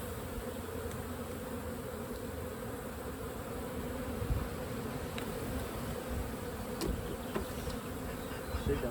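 Honey bees buzz steadily in an opened beehive being inspected, a dense, continuous hum close by with no talking over it.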